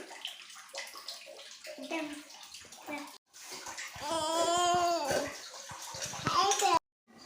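Water splashes and pours while floor tiles are washed at home, the rushing sound rising and falling in bursts, with children's voices and chatter heard alongside.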